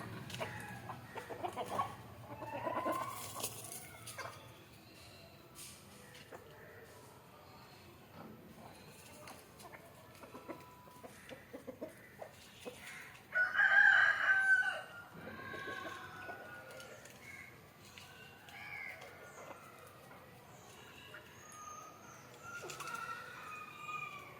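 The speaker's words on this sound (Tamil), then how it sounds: "நல்லா எல்லாம் தவிடு சாப்பிட்டுட்டு இருக்கிறோம் கோழி எல்லாம்" Native chickens cluck intermittently nearby while eating bran, with scattered pecking sounds and a short burst of louder squawking midway; a rooster crows faintly.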